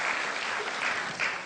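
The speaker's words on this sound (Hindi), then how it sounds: "ताली करना चाहता हूं" A seated audience at a motivational training session claps together briefly in a dense, close burst of applause.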